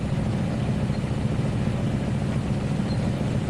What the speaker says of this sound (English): the switcher engine just straining.